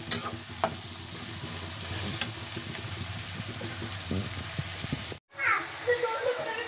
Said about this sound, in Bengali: পেঁয়াজগুলো ভালোভাবে ভাজা হয়ে গেছে।